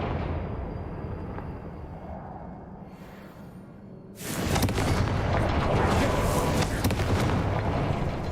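Confringo blasting spell cast in Hogwarts Legacy: after a quiet stretch, a sudden loud fiery blast bursts out and rolls on as a sustained rumbling roar to the end.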